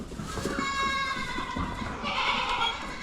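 Goats on a farm during morning chores bleat in a loud, wavering, nasal cry that rises and then breaks into a second, harsher call against a steady outdoor background.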